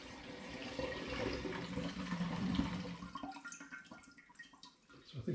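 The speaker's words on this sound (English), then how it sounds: "I'm going to add them into a demijohn through a sieve" Liquid from steeped nasturtium leaves poured through a sieve into a demijohn, a steady close splashing pour that thins into trickles and drips near the end.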